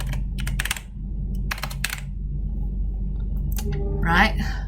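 Typing on a computer keyboard while building a PowerPoint slide, with scattered clusters of clicking keystrokes near the mic against a steady low hum and a short voiced sound near the end.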